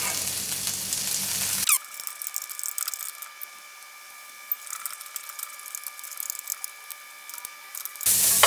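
Butter and snap peas hit a hot frying pan, bursting into a loud, steady sizzle after a brief noisy lead-in, crackling close up and continuing alone until it cuts off near the end.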